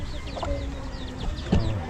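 Several chickens cluck repeatedly in a crowded flock close by, their calls overlapping with scratchy farmyard noise and a brief louder thump near the end.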